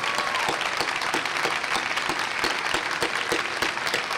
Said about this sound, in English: please stand and let us applaud you